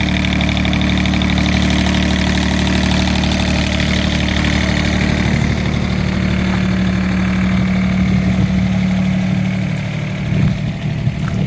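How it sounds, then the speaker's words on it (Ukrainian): A mini excavator's diesel engine idles steadily and loudly up close, a constant low rumble with a slight shift near the end. "Завів я двигунець. Отак він працює."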